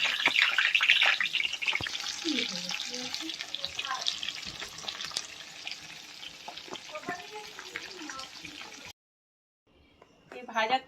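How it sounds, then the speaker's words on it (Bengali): Oil hisses and sizzles in a pan while stuffed potol is cooked for dolma, loud at first and then settling into a steady, softer crackle before cutting off. "এবারে তেল দিয়ে দেবো এতে পরিমাণ মতো।"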